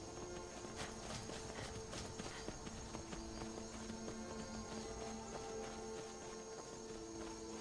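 Ghost horse hooves in Skyrim clip-clop at a steady walking pace, a continuous rhythmic clatter over constant ambient game background with no talking.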